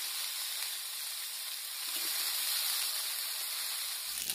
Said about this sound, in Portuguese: A gente vai fritar o bacon, depois vamos fritar a calabresa.